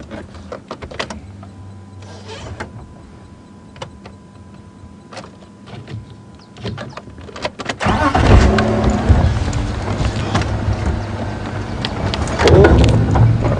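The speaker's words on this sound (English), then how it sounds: "Just going to move the vehicle forward ever so slightly." A safari vehicle at Djuma Game Reserve idles quietly with faint clicks and rattles before its engine rises and it creeps forward slowly, the motor rumbling louder and rougher toward the end.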